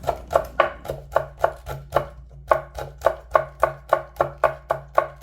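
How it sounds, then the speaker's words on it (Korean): A knife slicing cheongyang and red chili peppers on a cutting board in quick, even, rhythmic taps, about three per second with one short pause, close and crisp with no speech. "청양고추 하나, 홍고추 하나를 송송 썰어줍니다."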